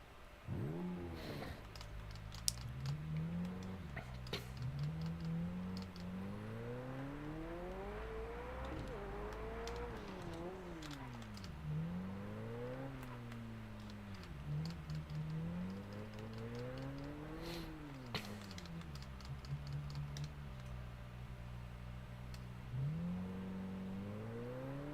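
A McLaren car engine in Test Drive Unlimited Solar Crown on PS5 revs up and falls back through repeated gear changes, a steady close drone that rises and drops in pitch, with no talking.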